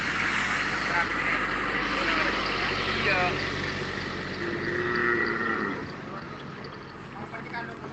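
A newly bought cow tied to a tree moos in a long, low call against a steady background hum, with people talking nearby.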